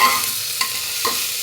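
Capsicum and potato fry with masala, a steady close sizzle broken by two brief stirring scrapes within about a second and a half, with no talking.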